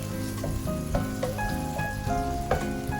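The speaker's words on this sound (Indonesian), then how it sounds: "Kita akan goreng sampai agak layu aja." Steady sizzling and crackling of sliced onions frying in a pan, with occasional stirring clinks, continuous and close, no voices.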